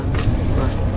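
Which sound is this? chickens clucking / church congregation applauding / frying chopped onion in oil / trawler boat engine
trawler boat engine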